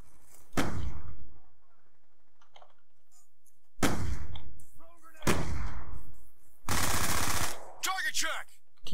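Gunfire rings out in Call of Duty Black Ops 2 as several loud, sharp bursts with brief gaps between them, and someone talks between the shots.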